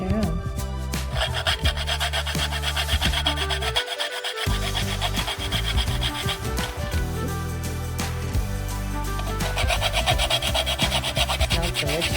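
Nuts for raisin bread are ground by hand, making a steady, close rasping and grinding sound that runs almost without pause beneath background music.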